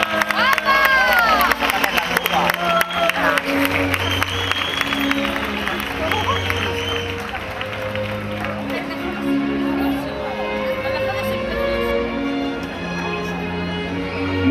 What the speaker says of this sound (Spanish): Recibamos con un fuerte aplauso a la representante de este año, María José Martos, representante de Huelma.